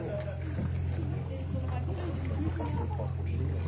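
A tour boat picks up speed on a canal in Colmar's Little Venice, its engine a steady low rumble that holds throughout, with people talking nearby.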